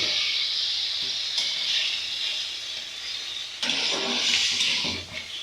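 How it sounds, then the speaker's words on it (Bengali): Salted water poured into a hot frying pan where fish-head and potato curry is being cooked, giving a loud, continuous close-up sizzle and hiss that surges again midway as more water hits the pan. "লবণ দিয়ে পরিমাণ মতো সামান্য পরিমাণে জল দেব।"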